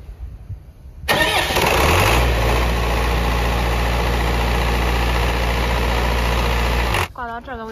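A 3-axle 35-cubic-metre bulk cement tank trailer truck's engine cranks and catches after about a second, then idles loudly and steadily for several seconds before cutting off abruptly near the end.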